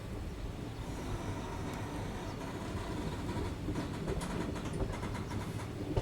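An AC sitting train from Bhuj to Rajkot, running near Wankaner, gives off a steady, loud rolling rumble with faint rhythmic clatter from the wheels, and no voices.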